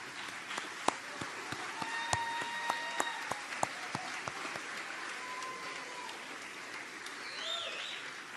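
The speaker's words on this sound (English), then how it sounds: "Let's give them applause." Applause from an audience at a convocation ceremony, a sustained wash of clapping at moderate distance with a few sharper individual claps standing out.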